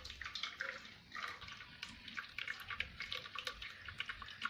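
Pudding mixture trickles and splashes through a strainer into a bowl, a close, steady, gurgling pour with bright droplet patter throughout.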